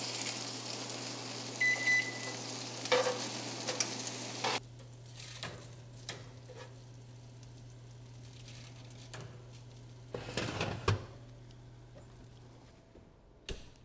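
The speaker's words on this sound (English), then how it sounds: "So I'm just gonna take some tongs and flip them so they're skin side up." Chicken wings sizzle in hot oil, a steady crackling hiss that drops away partway through. Scattered clacks and scrapes follow as tongs flip the wings skin side up.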